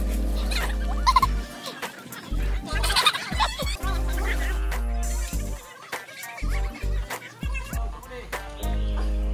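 Chickens cluck and squawk in agitated bursts while being chased, with scattered rustling and thumps among the commotion.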